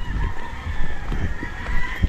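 Chickens and a rooster in a chicken area in Calaca, heard as a steady, moderately faint outdoor barnyard clucking and crowing under continuous background noise.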